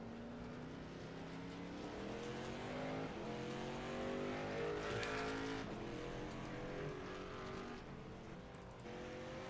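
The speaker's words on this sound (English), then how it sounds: "2 of them are currently rolling around the track now." Race cars circle Stafford Motor Speedway, their engines revving up and down in rising and falling whines that swell nearer and fade, fairly faint overall.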